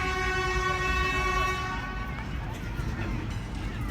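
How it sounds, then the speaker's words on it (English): A cargo train rumbles past nearby near Tando Adam, Sindh, Pakistan, with a steady low roar and rail hum, sustained tonal squeals over the top; a voice talks under the noise partway through. "This is a cargo train going to Karachi, coming from Punjab now."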